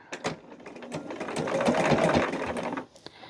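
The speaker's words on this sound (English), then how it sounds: "what I'm going to do is top stitch along the outside edge here" Sewing machine top stitching along the outside edge of a fabric picnic caddy, a steady close whirring run of about two seconds that ramps up and then stops, with a few soft handling clicks before it starts.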